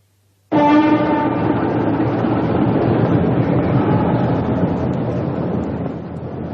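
A night sleeper train sound effect from a radio drama bursts in abruptly from silence, a loud steady rolling rumble with a low horn-like tone and rhythmic clatter that slowly fades.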